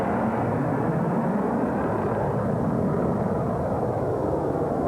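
Jet aircraft flying in tight line-abreast formation at a naval air show, around 200 knots, give a steady, broad roar that stays loud and unbroken throughout, with no voices over it.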